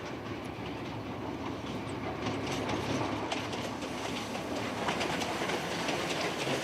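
A train runs on rails through the Bolivian Andes toward a salt flat, a loud continuous rumble with a steady clickety-clack of wheels over the track, heard up close throughout with no voices.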